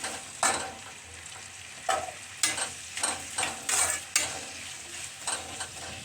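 Vegetables and tomatoes sauté in a pan with a continuous soft sizzle, broken by repeated scraping and clinking of a spatula or spoon stirring against the metal.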